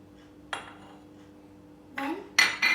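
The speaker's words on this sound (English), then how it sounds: "First, we're going to put 1 tablespoon of melted butter." A tablespoon of melted butter going into a mug, heard as a few sharp clinks of a spoon against ceramic, spaced apart and quite close.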